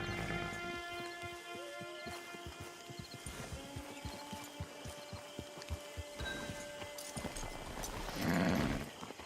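Horse hooves clip-clop at a steady walking rhythm in the Red Dead Online video game, set against a tonal ambient hum and a brief louder swell near the end, with no talking.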